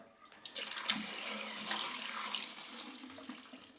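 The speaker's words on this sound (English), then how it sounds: "if you pour the chemistry straight onto the hole of the Patterson tank, it goes in super fast" Film developer chemistry pours quickly into a Paterson developing tank, a steady close splashing trickle that lasts a few seconds and then tapers off.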